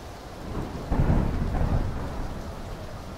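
Rain and thunder from the battle royale game PUBG: a low rolling thunder rumble swells and fades over steady rainfall hiss, alone with no voices.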